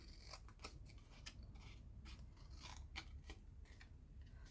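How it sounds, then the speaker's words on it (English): Scissors cutting score marks in cardstock, a series of crisp snips and rasping cuts in an irregular rhythm, close and fairly quiet with no talking. "just cut these 2 score marks in the middle"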